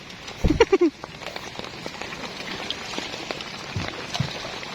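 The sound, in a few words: rain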